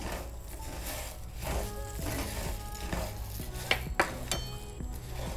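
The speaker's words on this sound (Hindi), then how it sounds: "बड़ी इलायची, सौंफ, काली मिर्ची, इनको हम एक बार भून लेते हैं।" Whole black cardamom, fennel seeds and black peppercorns dry-roast in a pan for homemade biryani masala, giving a steady soft scraping and rustling from stirring with a few light clinks of utensil on metal. No voices.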